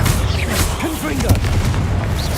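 Hogwarts Legacy Confringo blast spell exploding in dense booming bursts amid a loud combat mix, with voices talking through the din.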